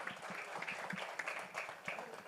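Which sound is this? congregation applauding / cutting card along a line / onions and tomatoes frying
congregation applauding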